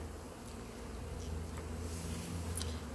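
A swarm of honey bees fills stacked hive frames of uncovered beekeeping equipment, a close, dense, continuous buzzing hum with a few louder passes from individual bees.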